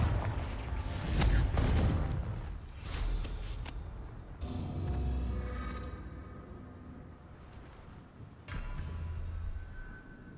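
Confringo fire-spell blasts in the video game Hogwarts Legacy: several heavy booming explosions with crackling bursts, spaced a few seconds apart over a rumbling background.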